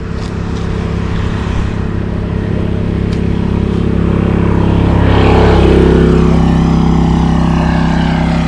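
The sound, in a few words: diesel-powered golf cart driving by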